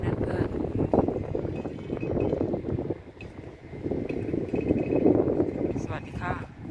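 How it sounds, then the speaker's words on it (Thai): A strong wind blows at a cold German seaside, roaring steadily into the microphone with gusty buffeting. A person speaks over the wind throughout. "ลมแรงมาก"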